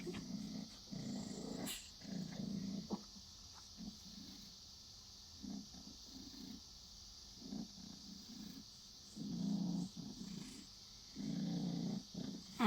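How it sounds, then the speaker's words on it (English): A sleepy house cat purring softly up close, a low rumbling rhythm that swells and fades with each breath, faint and steady with no talking. "She's purring."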